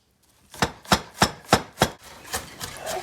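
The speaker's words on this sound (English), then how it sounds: "So I'm just cutting the onions" A knife cuts onions in five sharp, evenly spaced chops on a board, close and crisp, followed by a few quieter, softer cuts trailing off.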